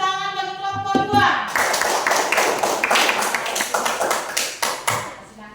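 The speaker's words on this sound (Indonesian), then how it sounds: "Tepuk tangan bagi kelompok 2." A brief tone opens, then a classroom of students claps for a student group, the clapping coming in rhythmic bursts of close, sharp hand slaps.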